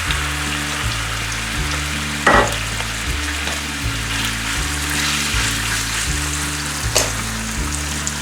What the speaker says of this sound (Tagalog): Let's fry first the squid.